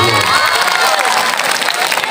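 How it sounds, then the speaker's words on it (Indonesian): Children in a religious lesson clap and cheer together, a loud, busy burst of shouting and applause close by, with chatter mixed in. "Tepuk tangan untuk dia."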